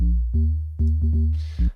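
Overdriven synth bass for a UK house track plays short, punchy distorted notes in an uneven rhythm, loud and alone, with a brief noisy hiss near the end.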